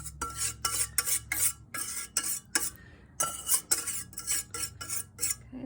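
Chocolate torte mixture being scraped out of a bowl with a utensil, a series of short, close scrapes and clinks in quick bursts with brief pauses between them, no talk.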